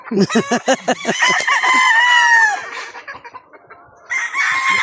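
Farm chickens cluck and crow close by in loud, overlapping calls, one drawn-out crow standing out, followed by softer scattered clucking.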